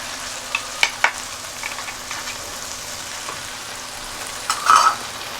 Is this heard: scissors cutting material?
no